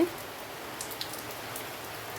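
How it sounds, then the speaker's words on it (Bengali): Steady evening rain falls on a courtyard, a soft continuous hiss with scattered drops pattering on surfaces, no voices. "এই দেখুন কত সুন্দর বৃষ্টি হচ্ছে"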